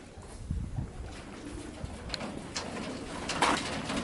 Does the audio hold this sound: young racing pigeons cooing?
yes